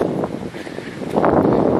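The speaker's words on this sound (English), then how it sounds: "it's really windy here" Wind gusts through a forest in Stokes State Forest, New Jersey, a rough rushing roar with microphone buffeting that swells louder toward the end.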